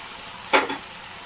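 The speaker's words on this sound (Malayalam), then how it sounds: "നന്നായി ഒന്ന് ഇളക്കി കൊടുക്കാം എല്ലാ ഭാഗത്തേക്കും ഈ സോസിൻ്റെ സംഭവമൊക്കെ ആവണ പോലെ" Fried chicken pieces tumbling into a pan of sauce for a chicken dry roast, giving one short clattering burst with a faint sizzle and a second smaller knock, alone and close.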